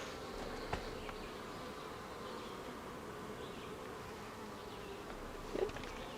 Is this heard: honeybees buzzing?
yes